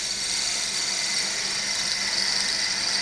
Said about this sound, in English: I'm going to go onto the spindle gouge